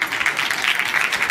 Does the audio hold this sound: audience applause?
yes